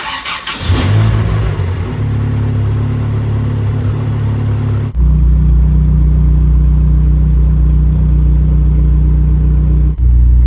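An SRT4-swapped Dodge Dakota pickup cranks and its engine fires up with a brief rev, then settles into a steady, loud, close idle with a low droning hum.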